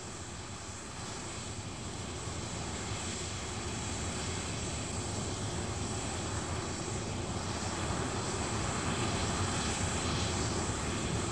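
Concorde's four reheated Olympus jet engines roar continuously at takeoff, a dense, steady wall of rushing noise that swells slightly toward the end.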